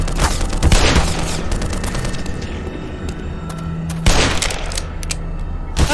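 Shotgun blasts in Black Mesa, two heavy booming reports about three seconds apart over a dense, rumbling game soundscape.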